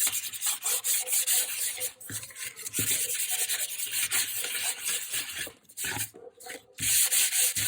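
Fine 320-grit sand block rubbing back and forth over a handmade journal cover, a steady close scratchy swishing in continuous strokes with a couple of brief pauses.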